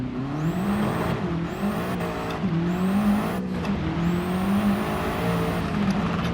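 A race car engine in Gran Turismo 7 on PS5 roars steadily, with pitch climbing through the gears and several shift breaks. It stays loud and close the whole time, with no voice.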